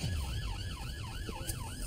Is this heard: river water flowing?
no